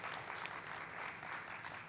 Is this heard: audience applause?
yes